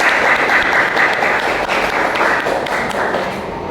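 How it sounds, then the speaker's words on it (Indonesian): A classroom of students claps for a presenting group, a dense, steady burst of applause that holds for several seconds and tapers slightly at the end. "Kita kasih aplaus untuk kelompok 1"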